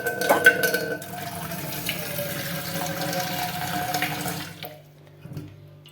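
Tap water runs steadily into a small pot being filled for Maggi noodles in a home kitchen, a close, continuous splashing stream that cuts off near the end, leaving a few faint clinks.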